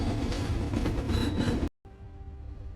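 A train rumbles along with a steady rattling roar and faint clatter, then cuts off abruptly to a quieter, hollow hum.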